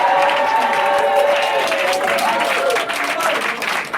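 A church congregation applauds and cheers to acclaim Jesus at a seminar gathering, a loud, steady roar of clapping and crowd voices that fades slightly toward the end.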